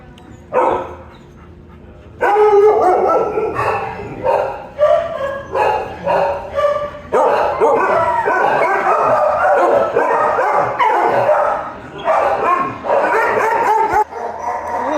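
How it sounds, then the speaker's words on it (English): Several abandoned dogs at a slaughterhouse bark loudly and repeatedly, some yipping and howling, in overlapping bursts close by, continuing almost without pause. "Oh, those dogs abandoned."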